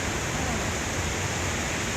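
Amedaki waterfall in Toon, Ehime, roars as a continuous, close and fairly loud broadband rush of falling water, unchanging throughout with no voices.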